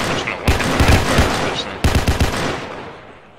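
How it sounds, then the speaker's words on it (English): Burst-fire gunshots from a Glock in the Roblox game Paracam, two loud close clusters of rapid shots with a short gap between, each trailing off into a decaying echo. "Your Glock burst fires when you ADS"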